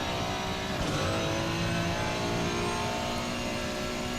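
Ferrari 296 racing car in Assetto Corsa Competizione at the Nordschleife, its engine droning steadily and loud under acceleration out of a corner, a continuous mid-pitched roar with no voices.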